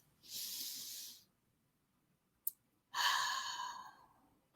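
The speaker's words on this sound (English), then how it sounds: "So take a breath with me. Let's everybody just breathe." Two long audible breaths in a guided deep-breathing exercise for stress relief: a slow airy inhale, a pause with a brief click, then a fuller exhale that fades away, close and alone without talk.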